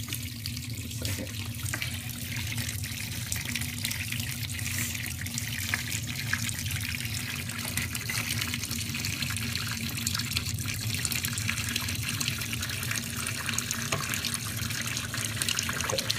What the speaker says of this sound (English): Fill the cup up.